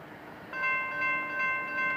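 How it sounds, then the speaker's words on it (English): A train passes a railway crossing, a steady mid-level rumble rising after half a second, with sustained horn or bell-like tones swelling and fading in waves, no voices. "So let's stop here, see if we can catch a train passing."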